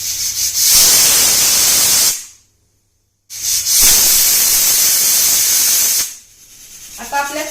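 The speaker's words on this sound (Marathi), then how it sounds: "आता आठ शिटा झालेल्या आहेत आता ही शिटी झाली की मी गॅस कमी करणार" A pressure cooker whistles during cooking of pav bhaji on a gas stove, sending two long, loud hissing bursts of steam separated by a brief silence, close up with no talk.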